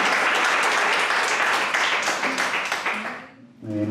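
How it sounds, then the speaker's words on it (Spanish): Audience applause welcomes an invited guest at a book presentation on territoriality in the Reales de Minas, dense steady clapping that thins and fades toward the end, followed by a speaker starting to talk. "un fuerte aplauso para nuestro invitado especial"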